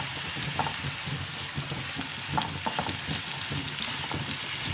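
A medium carrot cut into julienne strips fries in hot oil, giving a steady, close crackling sizzle with small pops and occasional stirring, no one speaking.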